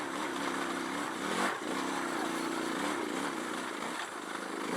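Stock Suzuki DR650 dual sport motorcycle engine pulling steadily in second gear up a bumpy dirt trail at Metcalf Motorcycle Park, a continuous close droning note with a brief surge partway through.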